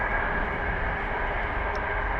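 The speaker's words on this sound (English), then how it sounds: "Got a plane" An airplane passes overhead outdoors at a fishing spot, a steady broadband engine roar holding even and fairly distant throughout.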